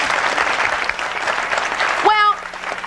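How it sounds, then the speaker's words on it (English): Studio audience applause on a television talk show, a dense steady wash of many hands clapping at moderate loudness, with a brief voice breaking in near the end as the clapping carries on. "And Jill, we applaud you too for being honest with your feelings."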